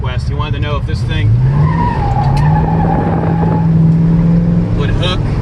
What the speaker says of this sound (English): We'll get it to chirp in a second for you.